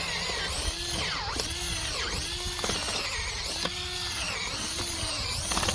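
A power drill whirs continuously while clearing dirt out of a hole around a young tree, its motor pitch dipping and rising in repeated surges as the bit bites into the soil, close and steady with no talking.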